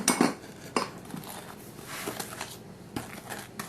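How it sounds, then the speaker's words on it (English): A spoon clinks and scrapes against a bowl while mixing sugar cookie dough with eggs, close-up, with a few sharper knocks at the start and softer, uneven stirring strokes after. "And mix it together."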